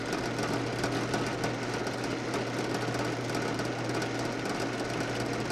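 A steady, loud mechanical whir and rattle of a drill boring a 3/8-inch hole, grinding continuously into material and throwing long chips, unbroken throughout.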